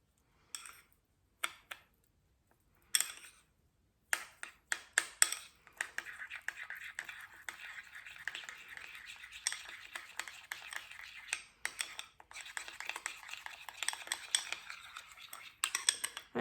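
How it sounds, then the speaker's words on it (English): A spoon stirs a homemade lip scrub in a small container, making quiet scraping and light clinking strokes: a few separate taps at first, then a soft, continuous run of stirring. "And then just give that a little mix"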